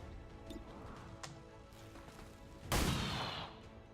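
Gunfire rings out in XCOM 2: a single loud, close shot strikes sharply near the end and decays over about a second. A few faint clicks and thuds come before it over a low game ambience.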